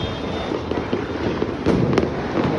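New Year fireworks going off around the Pier Tondo area, a dense continuous crackle and rumble with sharper bursts and pops standing out against the steady din.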